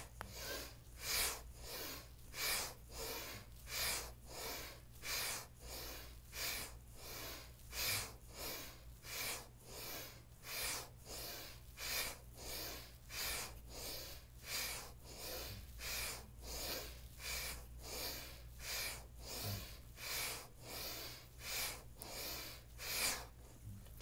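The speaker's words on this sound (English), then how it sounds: "we inhale and exhale forcefully out of the nose and really wake up the body with energy here" Forceful rhythmic breathing in and out through the nose during a morning yoga flow, a quick steady series of sharp close nasal puffs repeating for the whole stretch with faint low hum beneath.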